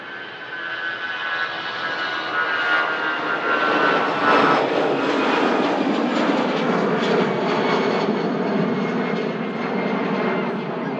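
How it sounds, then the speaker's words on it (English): EasyJet jet airliner passing Manchester Airport, a loud, steady engine roar that swells and holds across the whole stretch, close and sustained with no talk over it. "Down, we have an EasyJet, another aircraft heading down to Funchal."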